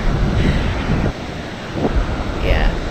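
Ocean surf rolling in at Tortuga Bay beach on Santa Cruz in the Galapagos, a loud continuous wash of waves with heavy wind buffeting the microphone throughout.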